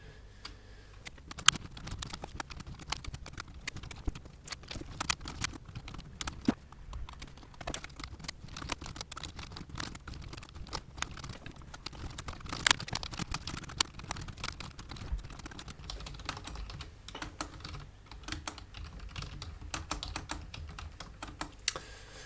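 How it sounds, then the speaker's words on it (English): Steady typing on a computer keyboard, a continuous run of quick, close key clicks with irregular rhythm and occasional louder strokes, heard alone with no talking. "So I want to type it up."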